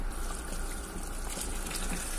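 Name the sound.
water poured into a pot of beef nihari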